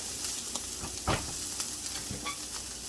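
Coriander fries in a pan for butter khada pav bhaji, a soft continuous sizzle broken by a few scraping stirs of the spatula, quiet and close with no talking.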